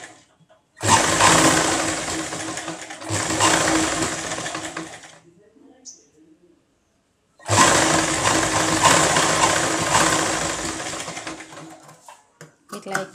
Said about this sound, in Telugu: ఇట్లా నీట్గా సదురుకుంటూ కుట్టేసుకుంటూ వెళ్ళిపోవడమే.